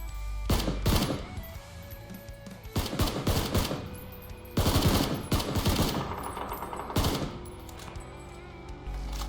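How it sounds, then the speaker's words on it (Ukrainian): Several bursts of rapid automatic gunfire in the video game PUBG, fired at a car, come in separate volleys, loud and sharp, with short pauses between them. "Помічаю машину і починаю стріляти."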